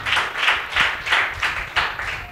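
A church congregation claps hands in praise during a Sunday worship service: six or seven loud, rhythmic bursts of many hands clapping together in steady time, close and without voices.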